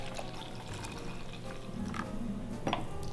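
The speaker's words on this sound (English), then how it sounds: "I'll pour it into my glass." Freshly made purple juice is poured into a glass nearby, a steady liquid trickle and splash that thickens slightly as the glass fills, with faint clinks and no talking.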